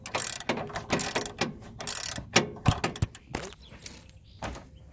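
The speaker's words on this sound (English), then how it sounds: "so I've loosened all but this last bolt." Ratchet wrench loosening the bolts on an RV's front anti-sway bar, a rapid clicking pawl in repeated bursts with sharp metallic knocks between strokes, close and fairly loud, with no voices.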